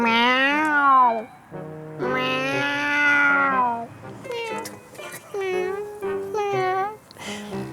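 A woman imitates a cat with a run of high, drawn-out meows to lure kittens outdoors, several calls in uneven bursts, close and clear.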